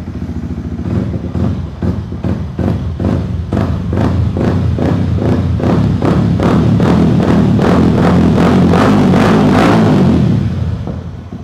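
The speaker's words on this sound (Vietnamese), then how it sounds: "Rồi cho anh em nghe tiếng bô nè" Yamaha R15 motorcycle exhaust blipped in a rapid series of sharp throttle pulses, close and loud, building and then cutting off near the end, with no talk over it.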